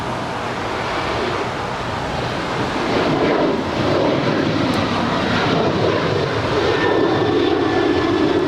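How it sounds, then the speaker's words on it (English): Austrian Airlines Boeing 777 taxiing toward the Tom Bradley gates at Los Angeles airport, a loud steady jet engine whine and rumble that swells slightly midway, heard nearby and continuous with no talking. "It's the Austrian 777 that makes her turn over to the gates of Tom Bradley"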